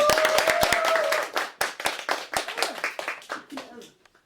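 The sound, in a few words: audience clapping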